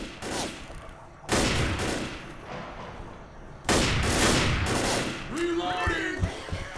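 Hunting rifle fire in the zombie shooter game Blood Harvest, loud bursts of repeated gunshots in two heavy volleys with rumbling echoes, ending in a brief tonal effect.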